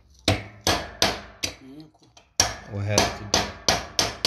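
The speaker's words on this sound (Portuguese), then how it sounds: "Cadê aquele martelo?" Hammer striking the metal vent-window latch of a VW Beetle in a repair shop, a rapid series of sharp, loud, ringing knocks with a short pause and brief talk in between.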